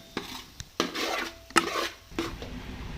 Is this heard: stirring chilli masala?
yes